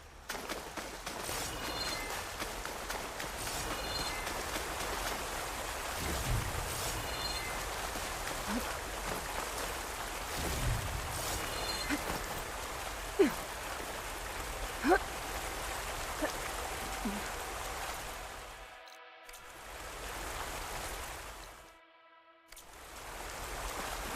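Steady rushing water of a waterfall in the video game Horizon Forbidden West, a continuous broad hiss with a few faint clicks, briefly cutting out near the end.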